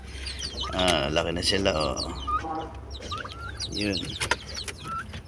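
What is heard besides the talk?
chickens clucking on a farm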